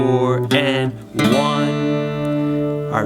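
Slow rhythm guitar strumming through the intro chord progression of a song, a few loud sustained strums with chord changes, played alone without speech.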